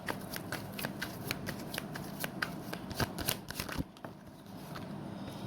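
Tarot cards are shuffled close up in a run of quick, crisp riffling slaps and flutters, then a brief pause followed by softer handling. No talking.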